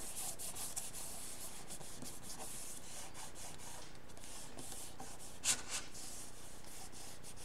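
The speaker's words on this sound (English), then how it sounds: "I'm just going to rub my fingers around the edges to make sure it's smooth" Fingertips rubbing paper smooth around the edges of a mini-canvas: a faint, steady dry rubbing and brushing close up, with a few soft scrapes and one small tap, no talking.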